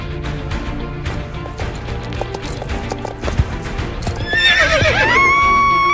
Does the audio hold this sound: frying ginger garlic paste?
no